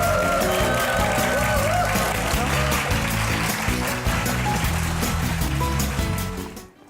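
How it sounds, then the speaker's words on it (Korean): A studio audience on a television talk show applauds a digital marketing company head, steady clapping over loud music with a pulsing bass beat. The sound cuts off abruptly at the end. "큰 박수로 다시 한번 응원해 주시죠."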